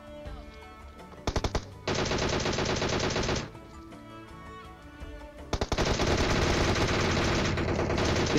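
Bursts of automatic gunfire in PUBG Mobile, loud and sustained, with a few sharp single shots before two long rapid-fire stretches over game background sound.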